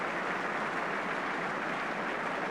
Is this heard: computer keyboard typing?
no